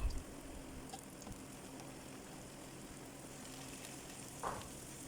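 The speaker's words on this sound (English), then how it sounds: "she'll start to add her tofu sticks and cook them until they're just browned" Tofu sticks fry in oil with garlic in a pan, a faint, steady sizzle heard from a distance, with a soft clink near the end and no voices.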